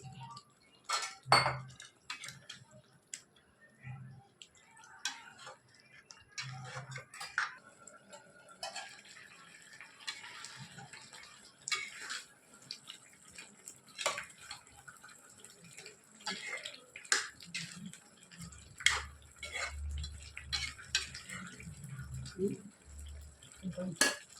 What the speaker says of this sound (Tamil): போட்டு நல்லா கிளறி இன்னும் கொஞ்சம் நல்லா வேகட்டும்